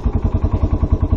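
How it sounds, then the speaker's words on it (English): Kawasaki Brute Force 300 ATV from 2016, its engine running close and loud with a fast, even pulsing throb over a brief moment. "You rev it a little bit and you... it sounds super good."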